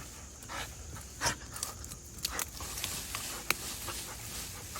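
A pet dog gnaws on a tree: faint, scattered cracking and crunching bites mix with steady panting close to the microphone, with no talking.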